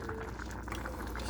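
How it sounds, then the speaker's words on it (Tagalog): Pangat, a sour fruit dish, bubbles and simmers in a pot, a short close burst of dense boiling gurgle with a low rumble beneath. "Nakulo na ang ating pangat."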